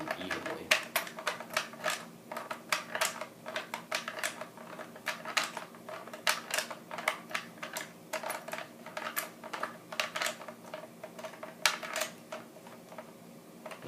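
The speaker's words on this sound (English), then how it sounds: "Start screwing the front one in." Rapid series of sharp metallic clicks and ticks from an Allen key turning screws into an MK96 weapon, close and fairly loud, in irregular bursts throughout with no talk.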